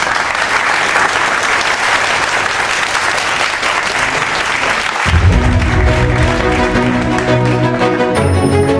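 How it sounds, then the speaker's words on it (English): Loud audience applause for Professor Gopalakrishnakone at an awards dinner, a dense, sustained clatter of many hands that continues as music starts up partway through and plays underneath the clapping. "Big round of applause for Professor Gopalakrishnakone."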